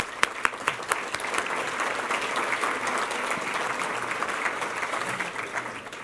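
Steady applause from a civic audience at a city State of the City address, warmly welcoming guests who stand at a table, a few sharp early claps then sustained clapping throughout.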